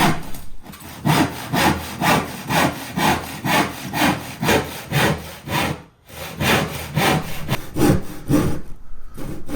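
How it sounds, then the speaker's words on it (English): A big hand saw cutting right through wood alongside a batten used as a straight edge while fitting out a CV40 campervan, with loud, close, rhythmic back-and-forth strokes, about a dozen in a row, with short pauses and no talking. "he uses the big saw just to saw through by hand, using that batten still as a straight edge, and cut right the way through"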